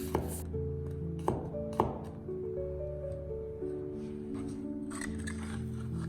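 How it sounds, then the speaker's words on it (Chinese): A knife dicing peeled garlic on a cutting board: a few sharp chops close up near the start, then softer activity under steady background music. "准备小把去皮的大蒜，同样也切成小丁"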